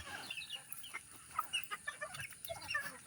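Hens cluck and chatter in a small backyard chicken coop at feeding time in the early morning, a steady bed of soft overlapping clucks with a few sharper calls, fairly close, with no talking.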